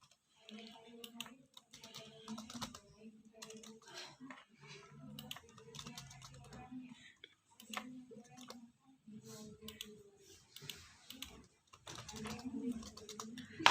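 Keyboard typing on a computer while coding in NetBeans, a quiet run of irregular clicks and key taps that continues under intermittent talking.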